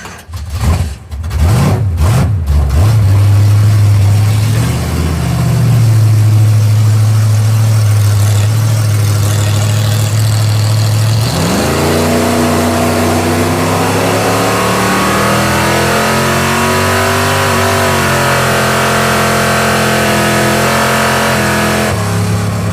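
A loud old drag race car engine revs in sharp bursts, settles into a rough, throbbing idle, then climbs through several rising revs, close by and with no talking.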